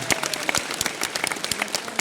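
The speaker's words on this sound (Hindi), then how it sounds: "बेजोड़ ताली होनी चाहिए इन लोगों के लिए" An audience at a Vestige business event breaks into lively applause, close and loud, with distinct individual claps popping out of the crowded clapping.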